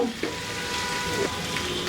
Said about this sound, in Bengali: এর সাথে একটু নাড়াচাড়া করে আদা রসুনের পানিটা শুকায় নিব